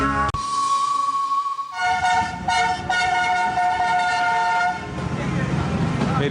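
A Pakistan Railway train sounds a long, loud steady whistle over a rumbling engine, with the tone holding for several seconds before the rumble takes over.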